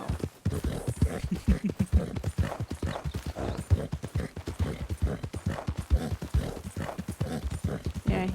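Horse hooves clip-clopping in a steady, brisk rhythm in the RanchRP video game, close and continuous, with little else audible.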